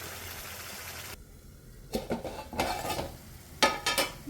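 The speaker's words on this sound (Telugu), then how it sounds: "ఈ స్టేజ్లో గరం మసాలా వేసి కలియబెట్టుకున్నాను" Egg masala curry stirred in a pan with a spoon, a few short scraping, clattering strokes over a faint background sizzle, quiet and close with pauses between bursts.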